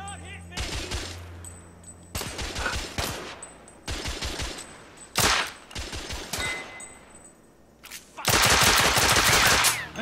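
Bursts of rapid automatic gunfire in the video game The Order: 1886, several loud volleys separated by short pauses, with a long sustained burst near the end.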